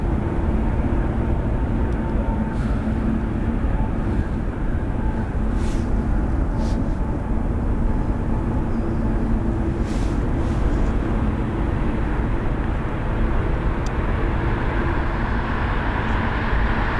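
An airliner bound for San Diego roars steadily and loudly at London Heathrow, a continuous low jet rumble with a few brief higher bursts and no break.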